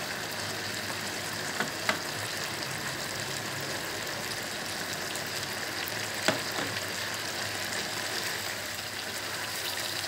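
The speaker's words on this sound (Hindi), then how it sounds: "मैं भी दो मिनट फ्राई कर लेती हूँ शिमला मिर्चों को" Diced potatoes and capsicum (shimla mirch) frying in a pan for masala aloo sabzi give a steady, dense sizzle throughout, with a few faint clinks of a utensil and no talk.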